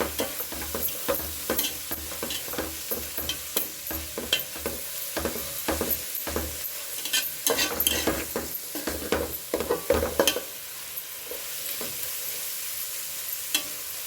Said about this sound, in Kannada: ಒಂದು 2 ನಿಮಿಷ ಅದು ಚೆನ್ನಾಗಿ ಫ್ರೈ ಆಗಲಿ